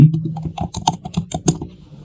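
Computer keyboard keys pressed in quick succession to test W, A, S and D input, a close, dense run of clicky taps with no talking.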